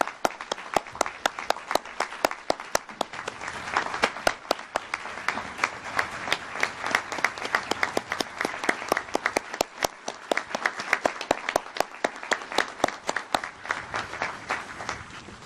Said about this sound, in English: Please lead me in a round of applause.